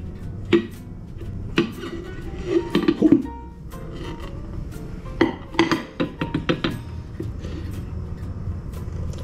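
Clinks and scrapes of dishes and utensils as a low-sugar, high-protein cake is moved onto a plate, a few sharp knocks of the plate being handled up close, with a low background hum and no talk.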